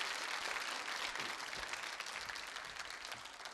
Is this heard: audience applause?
yes